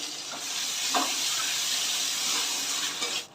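Ginger paste and spices frying in a pan, a steady soft hiss and sizzle running throughout with a few faint clinks.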